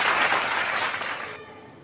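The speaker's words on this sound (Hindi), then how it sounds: "जोरदार तालियों से उनका स्वागत करें।" An audience at a poetry recital applauds to welcome a poet, a brief loud burst of clapping that cuts off abruptly after about a second and a half.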